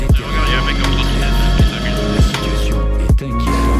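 A loud, close police gendarmerie helicopter drones overhead with a steady low throb, punctuated by a few sharp sweeping whooshes as it makes repeated low-altitude passes.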